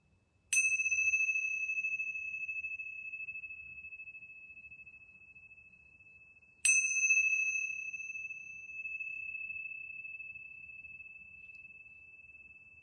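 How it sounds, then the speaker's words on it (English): Two resonant bell strikes ring out at the close of a yoga session, spaced about six seconds apart, each clear tone sustaining and slowly fading in a quiet room. "Here come the bells."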